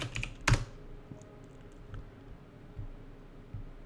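Terminal command typed on a computer keyboard: one sharp, loud keystroke cluster near the start, then scattered soft key taps at an uneven pace, close by and with no voices.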